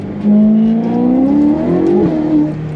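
Ferrari 488 Pista fitted with a Novitec exhaust revs hard, a loud, close engine note rising in pitch over about two seconds, then briefly dipping and flaring again before settling, with no speech.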